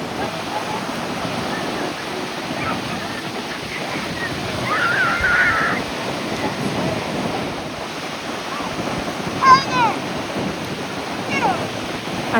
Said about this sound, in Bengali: ঢেউ আছে, হাওয়াও আছে।